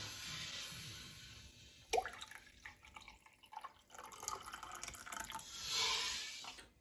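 Hot water pours steadily into a glass, with a brief clink partway through and the splashing rising in pitch as it fills.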